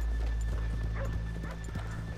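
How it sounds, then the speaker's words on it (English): Dog barks from Red Dead Redemption 2 sound in a short, quiet background scene, a few soft, distant yaps over a low hum with faint music. "Just a little background noise. Dog barking, a little hum of music."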